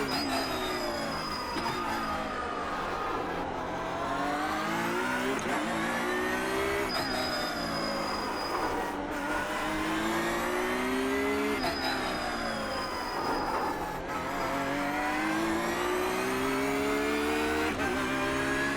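Race car engine in the iRacing video game, driven on track to warm the tyres, revving continuously with rising and falling pitch through gear changes, loud and steady throughout with no talk.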